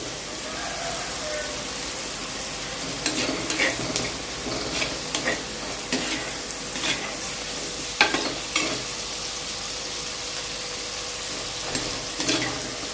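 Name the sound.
sautéing onions with curry leaves in a pan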